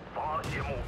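A tank's main gun fires in World of Tanks, a single short booming shot with a rumbling tail, loud and close, lasting under a second.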